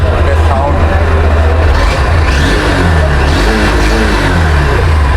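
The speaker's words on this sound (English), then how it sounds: "The sound is so smooth, guys. I'll just rev it a bit." A Honda CB 200X motorcycle engine revving nearby, a loud continuous drone that rises and falls in pitch as the throttle is blipped, filling the whole stretch without a break.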